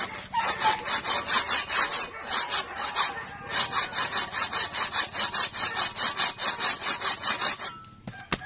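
Hand saw cutting through hard wood from a garden plant, steady rhythmic back-and-forth strokes, close and loud, with a brief pause near the three-second mark before the strokes resume.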